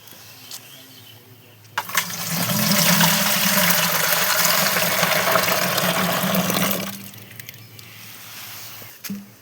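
Fresh date palm sap poured from a pot into a jar, a steady gushing and splashing pour lasting about five seconds, close and fairly loud, with quieter outdoor background before and after.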